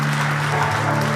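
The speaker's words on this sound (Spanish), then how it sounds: "Fuertes aplausos a nuestro Dios." A church congregation applauds at a worship service, with steady, dense clapping throughout that sounds close and continuous and carries no talk.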